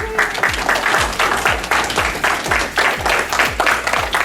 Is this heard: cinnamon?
no